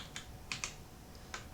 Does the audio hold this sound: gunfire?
no